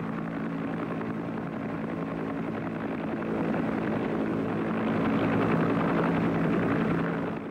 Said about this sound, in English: The most effective helicopter gunship in American service was the Huey Cobra.